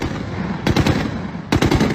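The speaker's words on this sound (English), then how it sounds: "Loud gunfire rang through the neighborhoods of central Tripoli." Loud bursts of automatic gunfire ring through the streets of central Tripoli, with two rapid volleys of several shots each over a constant rumbling background.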